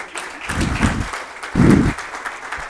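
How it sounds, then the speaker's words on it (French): Audience applause at a diagnostic and interventional radiology congress, a fairly close wash of clapping with heavier, louder swells around the middle, continuing throughout. "On l'applaudit."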